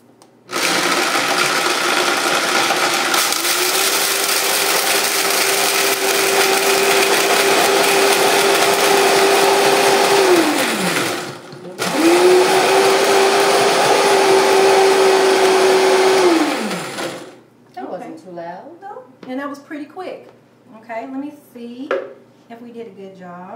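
A blender grinds dried chickpeas into flour with a loud, steady motor whir in two long runs separated by a brief pause, followed by a person talking once it stops.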